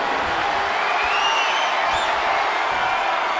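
A wrestling video game arena crowd roars in a steady, dense wash of cheering and noise, loud throughout with faint whistles and whoops rising above it.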